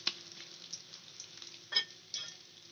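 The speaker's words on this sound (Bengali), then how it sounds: "আমি তেলের মধ্যে দিয়ে দেবো একটা তেজপাতা আর গোটা জিরে।" A bay leaf and whole cumin frying in oil over low flame, a faint, thin sizzle with a few brief crackling bursts.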